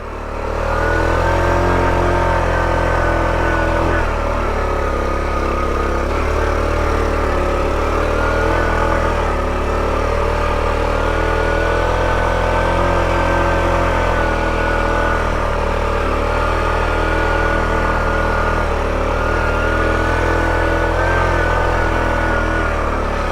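A 1984 Honda Trail 110 motorcycle engine labours steadily as the bike climbs a hill in one low gear, a loud, close, continuous drone with slight rises and dips in pitch and no talking.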